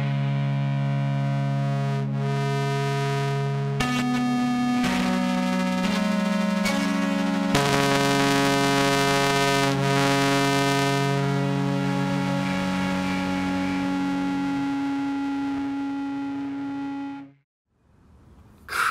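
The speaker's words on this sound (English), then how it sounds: "let's try turning up the distortion while the envelope follower is engaged" Heavily distorted sustained tones driven by an envelope follower in the GAZE plugin, loud dense chords that shift pitch in stages and swell, then fade abruptly near the end.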